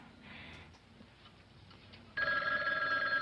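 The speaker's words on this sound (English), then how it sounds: "A phone." A telephone rings loudly and steadily, starting abruptly partway through after a quieter stretch of low background noise.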